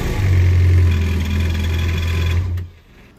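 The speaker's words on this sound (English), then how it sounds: "I like to give it a rev to make sure that the lubricant is dispersed." A Yamaha SVHO 1.8L supercharged jet ski engine runs with a steady, loud, buzzing drone, close by, then cuts off abruptly, leaving near silence.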